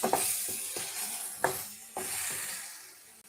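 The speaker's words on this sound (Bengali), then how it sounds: "আর এই যে মাছ দিয়ে বেগুন রান্না করব এর জন্য পেঁয়াজ রসুনটা হালকা আগে ভেজে নিচ্ছি" Onion and garlic frying lightly in a pan for a fish and eggplant curry, a steady soft sizzle with a few sharp spatula scrapes and clicks, close and alone with no talking.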